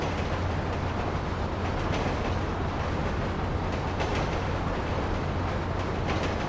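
A train rumbles past in Grand Theft Auto V, a dense, loud, continuous roar of wheels and wagons with a steady low hum beneath, no speech.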